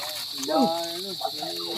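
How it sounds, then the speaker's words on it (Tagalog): Crickets trill at night in a steady, high-pitched drone that runs through the whole moment, while people talk close by over it. "Shoutout nga pala sa mga kuliglig yan. Ang ingay nila."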